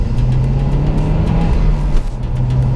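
A 2010 Mazda MPS hot hatch with a 2.3 litre engine pulls hard under acceleration while driving, a steady loud engine drone holding close throughout with no talk over it.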